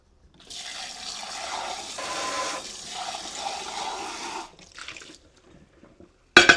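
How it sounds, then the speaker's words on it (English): Beaten egg poured into a bag holding shrimp for pork-rind-breaded fried shrimp, giving a steady wet pouring and sloshing for about four seconds, then a brief quieter trickle and a short sharp rustle at the end. "Now I'm going to pour the egg into the bag with the shrimp."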